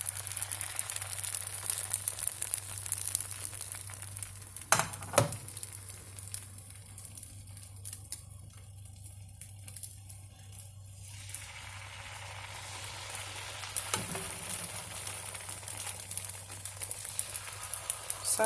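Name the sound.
vegan coconut crepe batter cooking in hot pan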